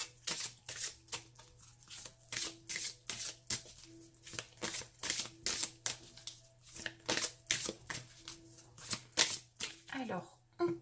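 Oracle cards being shuffled by hand, a steady rhythmic series of soft riffling slaps, close and fairly quiet, repeating about twice a second.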